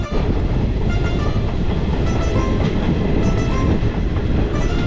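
Continuous loud rumble and rattle of a moving train, with steady rhythmic wheel clatter throughout and no voices.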